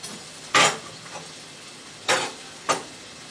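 Chicken pieces being turned with metal tongs in a frying pan for a chicken noodle stir fry: three short scraping clatters, one near the start and two close together later, over a faint steady sizzle with no talk.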